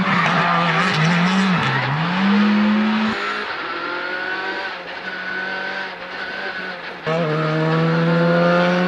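A Skoda Fabia R5 rally car with a 1600cc four-cylinder turbo engine screams through rising revs and quick gear changes, tyres skidding and squealing close by in one loud, continuous run.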